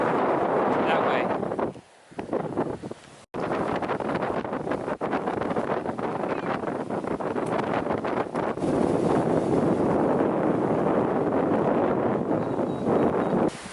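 Strong wind buffets the microphone on an empty, remote stretch of Mexican coastline, a loud continuous roar of gusts that dips briefly before surging back and persisting throughout.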